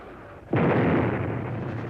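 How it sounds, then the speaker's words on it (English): Vietnam War bombing: a sudden heavy explosion bursts in after a low rumble and rolls on as a loud, sustained roar, with no voices. "it gradually escalates bombing of the North"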